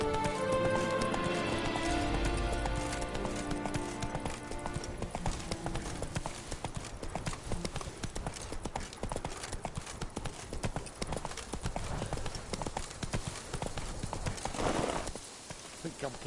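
Roach the horse gallops in The Witcher 3, hooves pounding a fast, continuous clip-clop rhythm, close and loud throughout, with game music and ambience layered underneath.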